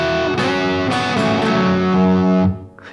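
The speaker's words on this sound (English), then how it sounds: "and then he does this turnaround riff that sounds like this." A blues guitar turnaround riff, played with a distorted, effects-heavy tone as a short run of notes that rings out and stops abruptly near the end.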